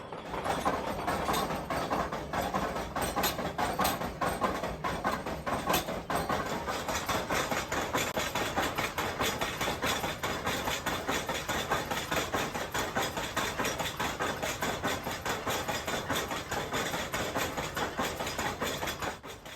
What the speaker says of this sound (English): the maiden 5 stamps get to work pulverising the gravel to a fine sandy ore